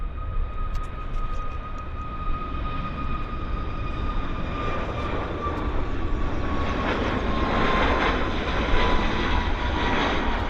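A jet airliner takes off at Vancouver Airport, its engines giving a sustained roar with a clear whining tone that gradually intensifies and grows louder toward the end as it climbs away.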